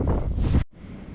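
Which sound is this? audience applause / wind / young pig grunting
wind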